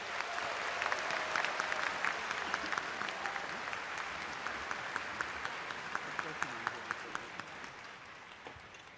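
Audience applause for the performers at a Korean 80th anniversary Liberation Day ceremony: a broad, steady wash of many hands clapping, sustained across the whole span with scattered sharper claps on top.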